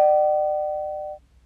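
A single bright bell ding used as a subscribe-reminder sound effect, struck once loudly and ringing clean as it slowly fades for about a second before cutting off, alone with no other sound.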